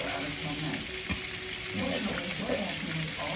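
Food frying in a pan gives a steady, soft, close sizzle with a few light stirring clicks and bubbling pops throughout.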